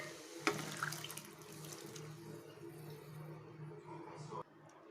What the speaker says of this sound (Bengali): এখন একটু জল দিয়ে দেবো এতে।